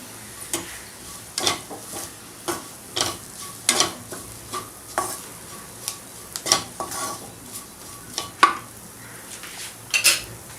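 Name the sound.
stirring coarse spice paste into potato gravy in a pan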